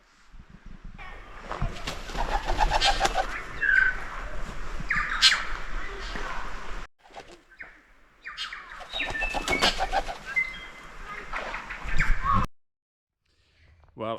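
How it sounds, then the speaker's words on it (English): Birds on a winter evening in New Zealand's South Island, where a large kererū wood pigeon has just flown into a tree: bursts of wing flapping and squawking calls in two loud spells separated by a brief quiet gap. "So much bird song around where we are."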